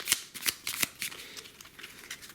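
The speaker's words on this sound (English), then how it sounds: "So give these a shuffle again." Navajo Wars board game cards being shuffled by hand, a quick series of crisp riffling bursts close up and fairly quiet.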